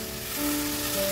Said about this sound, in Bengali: এবার এর মধ্যে জল ঢেলে।